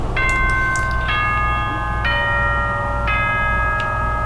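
School broadcast chime from Danganronpa 2: four clear, bright bell tones in a descending-then-rising ding-dong pattern, evenly spaced about a second apart, over a low steady hum.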